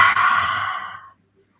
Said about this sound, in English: Maybe sticking the tongue out with the next exhale.